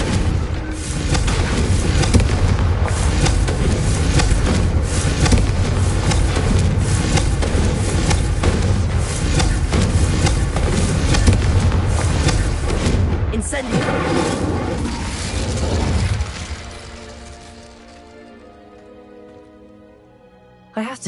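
The Confringo fire-blast spell in a video game sets off a loud, sustained crackling roar mixed with booms for about fifteen seconds, then fades to near quiet.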